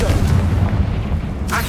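A fire spell bursts in Hogwarts Legacy with a deep, rumbling boom that rolls on for over a second before a brief crackling tail at the end.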